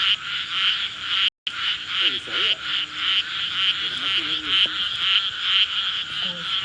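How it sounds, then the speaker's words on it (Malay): A dense chorus of frogs croaking continuously and loudly, a steady pulsing drone with faint voices underneath. "Bising sebab katak."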